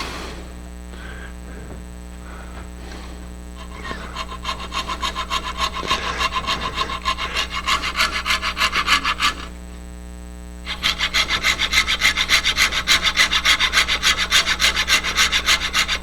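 A hand-held coping saw cuts wood for a quaich drinking bowl with steady rhythmic rasping strokes. The sawing is close and grows louder, stops briefly, then resumes more strongly.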